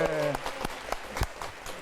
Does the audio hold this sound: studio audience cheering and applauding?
yes